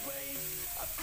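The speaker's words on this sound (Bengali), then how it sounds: "এবার আমি আবার মশলাটাকে ভাজতে থাকবো" Masala spices for a Bengali egg curry frying in a pan, a steady soft sizzle running continuously throughout at close range, with faint tonal background hum and no talking.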